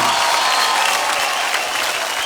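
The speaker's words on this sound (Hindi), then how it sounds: "जोरदार तालियां" Crowd at the IIFA awards gives Salman Khan loud, continuous applause, a thick steady roar of clapping that holds strong across the moment.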